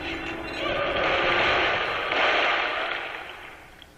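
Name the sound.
explosions in video game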